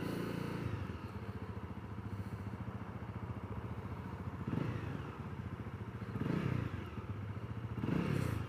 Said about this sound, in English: the engine is quieter too, not just the exhaust